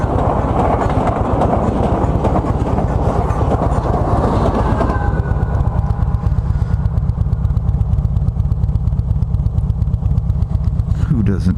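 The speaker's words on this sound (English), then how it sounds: "Let's watch an Amtrak bomb by." An Amtrak train rumbles past close by, loud and steady with rhythmic clickety-clack of wheels over rail joints throughout.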